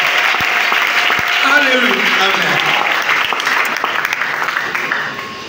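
A church congregation claps and cheers in praise of Jesus at a prayer gathering, steady close applause mixed with voices and a sung exclamation, tapering off at the end.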